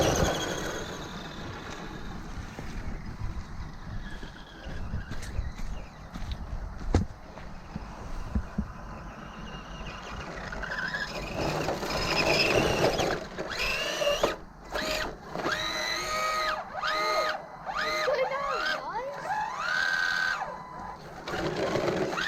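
Team Associated RC10T radio-controlled truck with a Novak Rooster ESC, its electric motor whining in rising and falling bursts as the wheels spin and slip in mud, close and fairly loud with a steady background hum.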